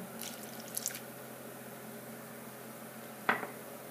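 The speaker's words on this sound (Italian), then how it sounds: "e aggiungete la vostra acqua pian piano." Water trickles and drips as it is slowly added to a honey paste in a bowl, a few soft, faint splashes and a brief louder drip over a quiet background hiss.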